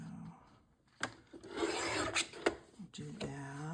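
Paper being sliced on a paper trimmer while assembling a handmade junk journal, a few rasping strokes after a quiet start, close and fairly soft with no talk.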